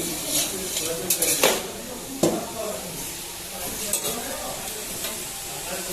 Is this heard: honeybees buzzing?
no